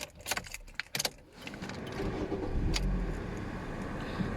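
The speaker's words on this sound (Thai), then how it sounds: "เดี๋ยวผมลองสตาร์ท ให้ฟังเสียงเครื่องกันครับ" A 2013 Toyota Vios 1.5E is started: a few key jangles and clicks, then the starter cranks and the engine catches, settling into a steady, close idle that continues to the end.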